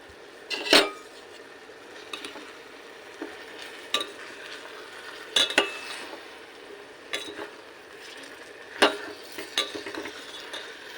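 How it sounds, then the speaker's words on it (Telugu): A spoon stirs dried shrimp and cucumber pieces for a curry in a pan, giving scraping clinks at irregular intervals over a soft, steady frying hiss. "చూడండి వీటన్నిటిని చక్కగా కలిపేసుకుందాం"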